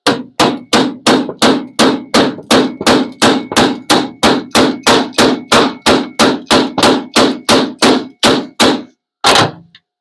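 A hammer beats a welded metal patch panel in rapid, evenly spaced loud strikes, about two per second, close up, ending with a short pause and one final blow.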